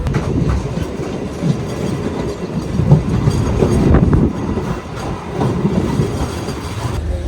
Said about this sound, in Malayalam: അങ്ങനെ കശ്മീരി ട്രെയിനിലുള്ള യാത്ര എല്ലാം അവസാനിച്ചിരിക്കുകയാണ്